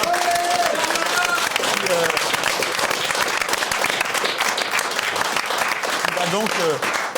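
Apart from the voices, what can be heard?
audience applause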